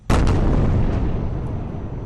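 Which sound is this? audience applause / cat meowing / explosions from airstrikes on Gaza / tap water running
explosions from airstrikes on Gaza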